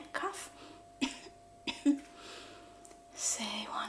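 A few short coughs spaced apart, close by, with quiet whispering around them.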